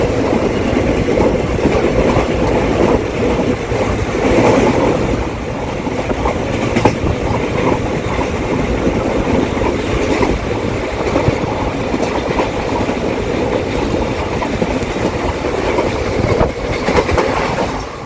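Steady rumble and rhythmic clatter of a passenger train running on rails, heard from inside the carriage on a journey toward Siliguri near Nabadwip Dham, continuous and fairly loud throughout with no talking.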